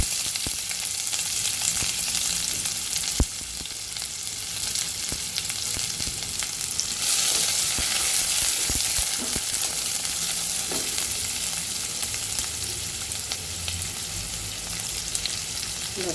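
Onion fries in a pan for rajma, giving a continuous close sizzle throughout, with a few soft knocks and stirring sounds over the steady hiss.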